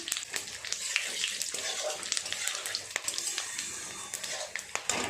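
Bay leaves, dried red chilies, cumin seeds, cloves and cinnamon crackle and sizzle in hot oil, a steady close frying hiss with scattered sharp pops throughout.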